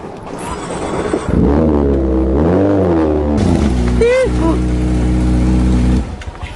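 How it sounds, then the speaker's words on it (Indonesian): A loud Kawasaki Ninja motorcycle engine revs up and down close by, its pitch swelling and falling in sweeping surges for several seconds before cutting off, with a brief voice in the middle. "Ini motor apaan sih? Berisik banget."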